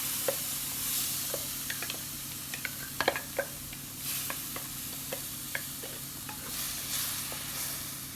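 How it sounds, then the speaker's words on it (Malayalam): A ground coconut-spice paste is poured into the hot pan used to fry ivy gourd for a fishless fish curry, giving a soft steady sizzle with scattered clicks and scrapes from stirring, close up and with no talking. "അതേ ചട്ടിയിലേക്ക് തന്നെ നമുക്ക് നമ്മൾ അരച്ചു വെച്ച അരപ്പൊഴിച്ചു കൊടുക്കാം"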